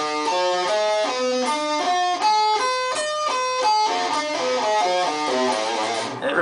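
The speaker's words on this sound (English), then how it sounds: "What I was using was a diminished arpeggio" Guitar playing a diminished arpeggio: a fast run of single picked notes climbing and falling in even steps, clear and bright, alone without voices, ending on a ringing note.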